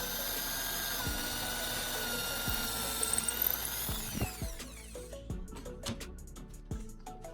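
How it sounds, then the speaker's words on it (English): A power drill bores pilot holes into a wooden block, the motor whine running steadily, then breaking into short bursts and stops toward the end, with knocks and clatter between, close and alone. "I'm pre-drilling holes into the marked spots on the first wooden block."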